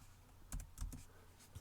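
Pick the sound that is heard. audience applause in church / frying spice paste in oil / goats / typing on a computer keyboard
typing on a computer keyboard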